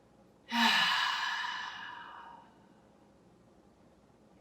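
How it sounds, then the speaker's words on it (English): One deep cleansing exhale pushed out through the mouth during a yoga session, a close, breathy whoosh that fades out over about two seconds, followed by quiet. "Cleansing breaths are the deep inhales through the nostrils, big exhales through the mouth."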